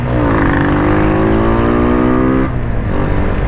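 A classic motorcycle arrives close by, its engine revving up loudly with rising pitch, then easing off briefly before continuing, with no talking.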